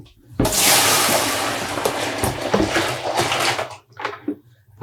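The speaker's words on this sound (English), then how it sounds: "I'm just going to pour out this water." A sudden rush of rinse water poured out of a yarn-dyeing container, loud and close, splashing steadily for a few seconds before trailing off into drips and small clatters.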